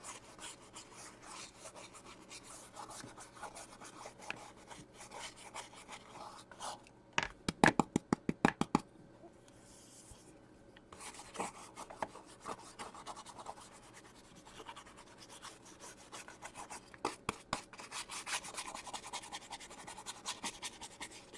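Rubbing across a mixed media craft surface, faint steady scraping with a few louder bursts of quick rasping strokes, close up and with no talking.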